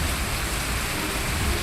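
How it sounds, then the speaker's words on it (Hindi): Torrential monsoon downpour over Santacruz, Mumbai, a steady dense hiss of heavy rain with a low rumble underneath, continuous and unbroken throughout. "मूसलाधार बारिश ने सांता क्रूज का हाल बेहाल कर दिया है"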